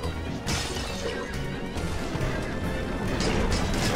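Ice breaks and shatters in the Ghouls 'n Ghosts ice town stage, a loud crashing burst layered over dense, continuous game music and effects.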